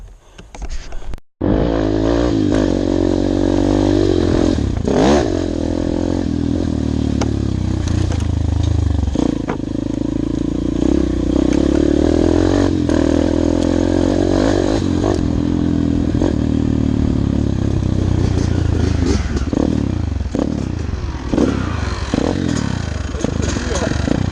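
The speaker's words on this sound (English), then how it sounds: "Ça c'est une dirt bike en 190 cm3." A 190 cc dirt bike engine runs loud and close for the whole stretch, its steady drone broken by revving surges and rattling clatter as the bike is ridden.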